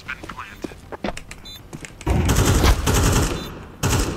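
Counter-Strike gameplay on the Inferno map, with scattered sharp gunshots early, then a loud sustained burst of rapid gunfire followed by another blast at the close.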